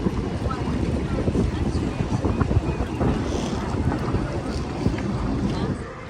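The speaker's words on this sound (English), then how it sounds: "So we're taking the ferry back home anyway." A harbour ferry crossing in Halifax, Nova Scotia, gives a continuous engine rumble, with water wash and gusty wind buffeting the microphone throughout.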